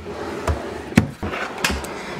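A heavy drawer full of stacked makeup palettes slides open with a couple of wooden knocks and a dull thump, followed by a sharp rattle, all close by in a quiet room.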